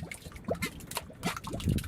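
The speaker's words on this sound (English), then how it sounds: "Sometimes, when the wind dies down, you can hear them pop, like this mud pot in Southern California's Salton Sea." A mud pot at the Salton Sea in Southern California bubbles and pops, with several thick, close wet blips and gloops spaced irregularly over a faint airy background.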